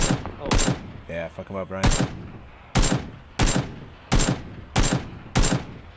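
Repeated sharp gunshots ring out in the PUBG battle royale game, roughly evenly spaced close cracks with a few rapid bursts, while a player shouts briefly between the early shots.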